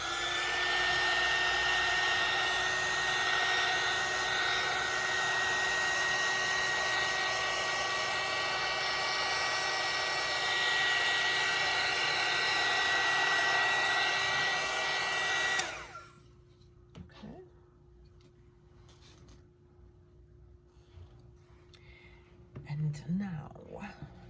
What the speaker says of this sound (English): so I'm gonna plug in my heat gun.